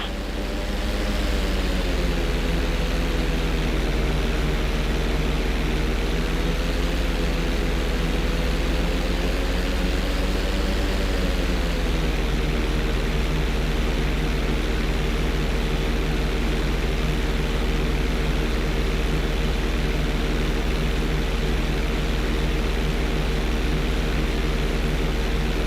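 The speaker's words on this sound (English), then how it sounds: "roll the plane upside down" Airplane in the video game GTA 5, flying upside down: a loud, steady engine drone with a broad noisy roar that rises and falls in pitch early on, then holds level for a long stretch with no voices.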